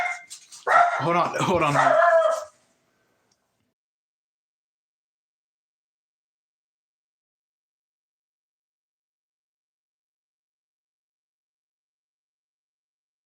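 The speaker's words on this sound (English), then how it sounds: "I apologize for my dog barking" A dog barks in a short, close burst of a couple of seconds, mixed with a brief spoken remark, followed by long silence.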